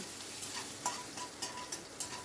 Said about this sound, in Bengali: কারি পাতাটাকে একটু ফ্রাই করে নিলাম